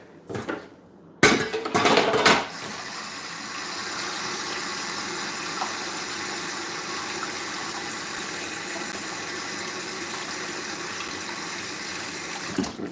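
Kitchen tap water runs steadily while items are washed, a continuous near hiss of flowing water after a few loud clattering knocks at the start.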